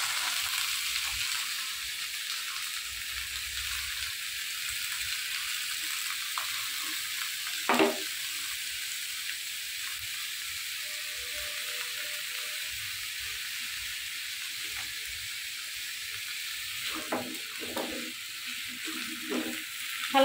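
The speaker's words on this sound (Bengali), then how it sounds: "এখানে আমি ভেজে নিব জালি কুমড়োগুলো, হালকা একটু ভেজে নিব লবণ দিয়ে আর সামান্য একটু হলুদ দিয়ে" Ash gourd pieces frying in oil with salt and turmeric make a steady, even sizzle throughout, with a few soft stirring scrapes and a brief louder spatter near the end.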